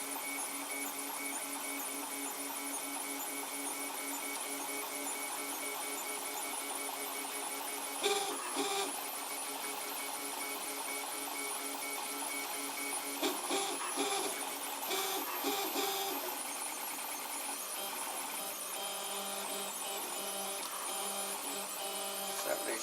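A 3D printer with Z auto tramming prints steadily, giving a constant whirring, buzzing hum with stepper motor tones and occasional brief bursts of clicky movement, quiet and with no talk.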